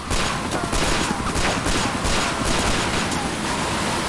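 Helicopter gunfire in the video game Yakuza 4 plays as a loud, continuous, rapid barrage lasting about four seconds, dense and unbroken from start to end.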